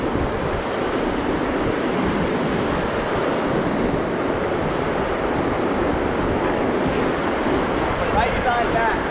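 Loud whitewater rapids on the Upper Kern River during a rafting trip, a continuous roaring rush of churning water heard up close and steady throughout.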